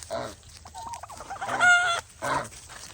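Chickens and turkeys clucking and crowing at feeding time on a poultry farm, several birds calling in bursts close by, with a loud rooster-like crow in the middle.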